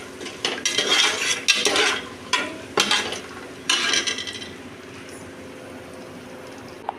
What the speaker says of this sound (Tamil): நல்லா மிக்ஸ் பண்ணி விட்டுக்கலாம். நல்லா வறுபடட்டும் இது ரெண்டும்.